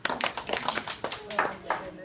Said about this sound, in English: You guys are going to clap and then stop.